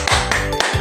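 A class of schoolchildren doing the rhythmic tepuk semangat clapping chant, with a few sharp, loud claps in a quick pattern close by.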